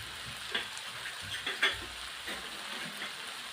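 Chicken breasts sizzle quietly in a pan while being stirred, a soft steady frying hiss broken by a few scraping clicks of the utensil.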